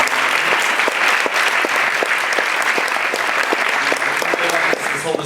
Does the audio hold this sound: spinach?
no